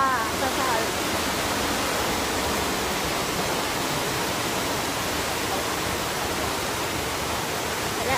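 Waterfall in a forest, a loud, broad, steady rush of falling water filling the whole clip without a break.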